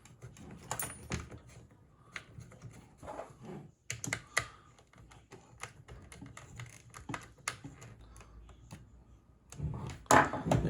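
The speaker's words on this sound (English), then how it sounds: "you can go ahead and screw in the banjo" Small plastic parts of a Spengler wand upgrade kit are handled as the banjo piece is screwed on: close, quiet clicks, taps and light scraping in an irregular rhythm, with no talking.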